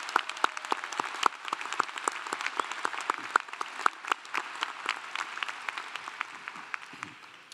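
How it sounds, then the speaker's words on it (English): Audience applause at a Clemson doctoral commencement ceremony for summer graduates: steady, dense hand clapping from a large crowd, continuous and moderately loud throughout with no voices over it. "join me in recognizing our graduates with a rousing round of applause"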